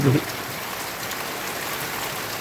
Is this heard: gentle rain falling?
yes